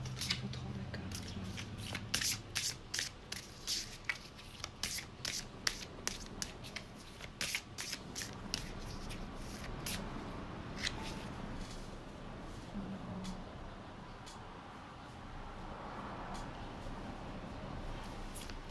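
A deck of cards being shuffled, a run of crisp riffling bursts at a steady pace that fade into softer rubbing and handling, with quiet speech at times.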